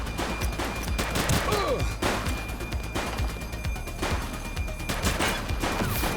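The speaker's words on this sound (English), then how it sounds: "Shots fired!" Gunfire in the police video game The Precinct crackles through a dense, busy mix, with repeated bursts and scattered shots under faint voices and background noise, moderately distant.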